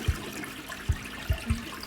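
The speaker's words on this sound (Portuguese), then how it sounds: "Posso dar descarga." Toilet flush in a video game's apartment bathroom, heard as four short, fairly loud low thumps with a watery wash between them, no voices.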